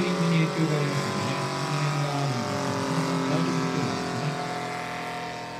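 A small multi-cylinder piston engine on a large model biplane drones steadily at idle while landing, one cylinder running rough, its buzzing tone wavering slightly, fairly close and continuous throughout.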